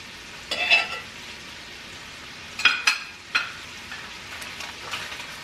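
Canned sausage frying with a tablespoon of butter in a pan, giving a low bubbling sizzle broken by a few louder scraping stirs and spatters, close up with no talking.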